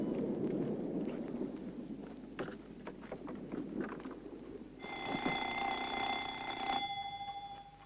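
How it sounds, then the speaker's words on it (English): A buzzer sounds for about two seconds partway through, a steady electric tone over a low rumbling background with faint clatter before it. "Fred, the buzzer."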